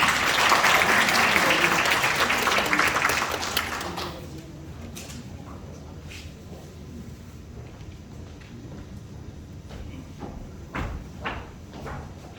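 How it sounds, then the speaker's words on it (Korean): Loud audience applause at the launch ceremony of the Heungdeok-gu social economy committee, a dense wash of clapping for about four seconds that fades, leaving quieter room noise with scattered claps and knocks. "큰 박수로 맞이해 주시기 바랍니다."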